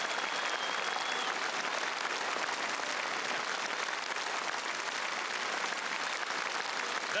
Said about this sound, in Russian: ваши большие овации